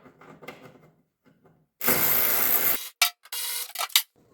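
Trim pieces come off an early Ford Bronco steering column with a few quiet clicks, then a loud burst of rattling, ratcheting mechanical noise followed by several short sharp bursts, nearby and otherwise quiet.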